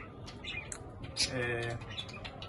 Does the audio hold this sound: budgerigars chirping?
yes